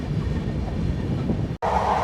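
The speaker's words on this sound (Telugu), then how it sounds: "సూపర్ ఫాస్ట్ ఎక్స్ప్రెస్ అనమాట, చాలా స్పీడ్గా వెళ్తుంది." Swarnajayanti superfast express train running at speed, a loud steady rumbling roar with wheel noise heard from onboard, a brief cut near the end, no talking.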